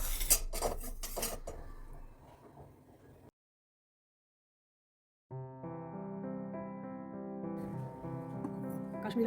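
Freshly roasted spices are scraped out of a pan onto a plate to cool, with quick metallic clinks and scraping at the start. A pause of silence follows, then a steady tonal hum.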